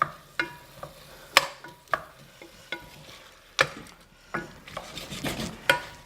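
Wild mushrooms fry in a pan while being stirred, with a soft sizzle beneath a string of sharp, irregular clicks and scrapes of utensil on pan, close and steady.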